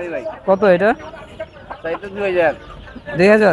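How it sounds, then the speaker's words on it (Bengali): Desi chickens at a bustling Savar Hemayetpur bird market cluck and squawk close by in several loud bursts, with market chatter and a person's voice speaking between the calls. "দেখুন আসলি মুরগি আছে, দেশি মুরগি আছে"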